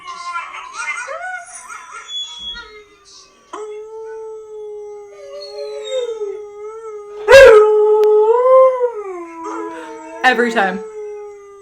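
A dog howls in long, wavering tones that rise and fall, with brief yips and a louder, sharper burst of howling near the end, under a few spoken words.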